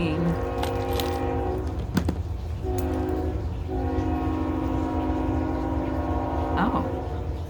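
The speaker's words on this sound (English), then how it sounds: "Here comes the train." A train passes nearby with a steady rolling rumble and sustained horn tones sounding twice, broken by a short gap, while someone talks over it.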